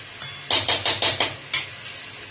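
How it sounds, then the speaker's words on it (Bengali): Ginger-garlic paste being stirred in a hot pan of oil for mutton gravy: a quick run of five scraping, sizzling strokes, then a single last stroke after a pause, close and clear with no talk. "আদা রসুনটা দিয়ে একটু নাড়াচাড়া করে নিচ্ছে"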